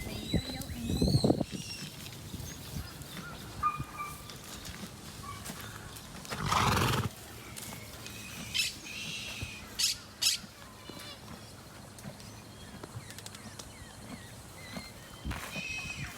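Horses in a paddock with occasional neighs and snorts, one loud burst near the start and another midway, mixed with scattered bird calls and movement noise at moderate distance.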